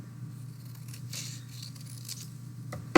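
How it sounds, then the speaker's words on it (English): Scissors cutting paper shapes for a rectangle craft, a soft steady snipping close by with no talk, ending in a sharp click. "So I'm going to cut out a bigger rectangle and a smaller rectangle."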